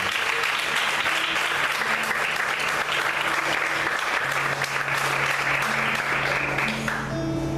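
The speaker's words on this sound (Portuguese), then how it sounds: "Vamos aplaudir o Senhor" A church congregation applauds steadily throughout, a dense, sustained wash of clapping with a low sustained musical tone beneath it and no gap in the noise.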